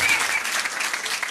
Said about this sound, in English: give them a round of applause for trying, though